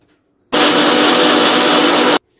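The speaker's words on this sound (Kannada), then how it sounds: "ಈಗ ನಾನು ಇದಕ್ಕೆ ಸ್ವಲ್ಪ ನೀರ್ ಹಾಕಿ ನುಣ್ಣಗೆ ರುಬ್ಕೊಳ್ತೀನಿ." A mixer grinder blends mango mustard paste with water, a loud, steady whirring roar that starts abruptly, runs for under two seconds and then cuts off, with no voices.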